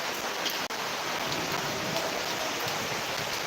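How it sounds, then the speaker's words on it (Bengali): Steady, dense rain pours down without a break, flooding the street, a heavy broadband wash of water close by with no voices. "ভাই একটু টাইমে বৃষ্টিতে পুরো রাস্তা ভেসে গেল একদম"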